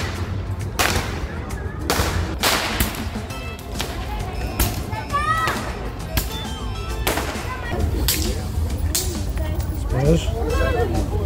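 Diwali firecrackers burst again and again on Narak Chaturdashi night in Dubai, sharp cracks and booms in irregular clusters over a steady crowd hubbub, with people talking throughout.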